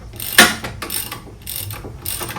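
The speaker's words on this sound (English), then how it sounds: "the easiest way to do this is to take the jack stand off" A car jack stand being taken off during work on a turbo conversion, giving four short metallic ratcheting clicks at a steady rhythm, close by and with no talk.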